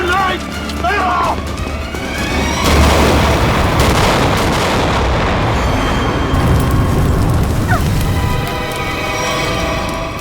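A grenade goes off at a petrol pump in a Hindi TV crime drama, a heavy booming blast with a long rumbling, crackling tail under dramatic scoring, loud and sustained.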